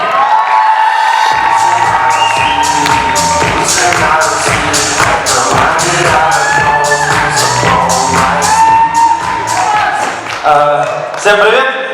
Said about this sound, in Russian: Встречайте бурными аплодисментами.